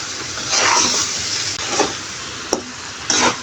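Chicken and papaya stirred with ground spices in a pan: steady scraping and sizzling noise with a few louder stroking scrapes and one sharp knock, close by, with no voices.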